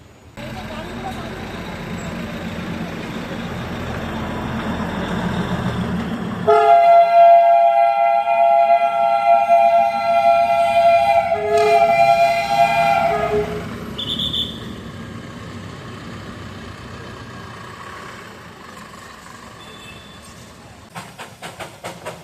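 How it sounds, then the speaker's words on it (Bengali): Darjeeling toy train passing close by, rumbling and hissing with a long blast of its horn midway, then fading as it moves off; people talk over it. "টয় ট্রেন যাচ্ছে বন্ধুরা, টয় ট্রেন, টয় ট্রেন"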